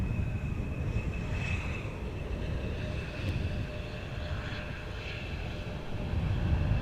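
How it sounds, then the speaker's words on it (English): A China Southern Cargo Boeing 777 freighter in crosswind conditions at Amsterdam Schiphol Airport, its engine noise a steady, fairly faint broadband roar with a thin whine, continuous and unbroken without voices. "China Southern Cargo, 777 freighter."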